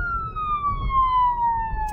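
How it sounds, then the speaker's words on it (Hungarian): A police siren on a Kia Sportage gives a steady, loud, slowly falling wail over low road rumble from the moving car. "ezen a Kián azért szól hangosabban a sziréna"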